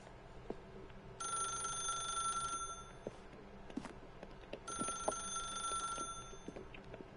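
A telephone in The Stanley Parable rings in two separate bursts of steady electronic trilling with a pause between them, fairly quiet over low background ambience.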